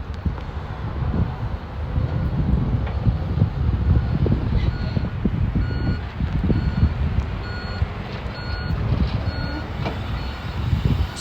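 A truck's reversing alarm beeps steadily as it backs up, delivering the first C8 Corvettes to arrive in Canada, heard over a constant low engine rumble and gusty wind with no one talking.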